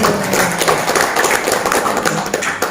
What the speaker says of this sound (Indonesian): Boleh kasih aplaus dong buat Ustaz dong?